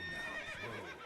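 In the video game The Witcher 3, a horse whinnies once, a short, wavering high neigh heard fairly quietly, with nothing else around it.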